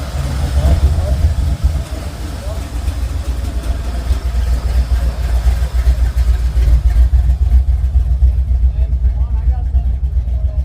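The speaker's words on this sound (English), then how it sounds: "Let's go hear this thing idling right here." Modified Jeep with a carbon hood and split bumper idling at a classic car show, a loud steady low rumble throughout, close up, with crowd noise.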